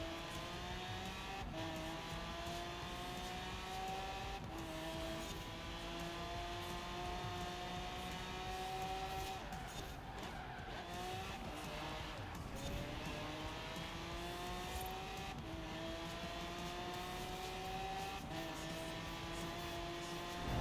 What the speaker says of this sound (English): This Lamborghini, I feel like this Lamborghini is slow.